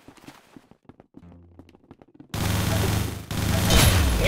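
Loud burst of gunfire in the Roblox shooter Arsenal, played on mobile, erupting after a stretch of quiet talk and continuing as a dense, sustained volley to the end.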